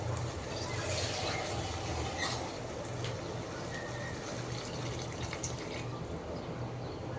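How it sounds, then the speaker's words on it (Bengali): A steady, quiet stream of water pours into a cooking pot holding long beans and potatoes, a soft continuous rush with faint splashing and no voices. "তো এরপর দিয়ে দিলাম পরিমাণ মতো পানি।"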